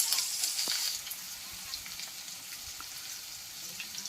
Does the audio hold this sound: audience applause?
no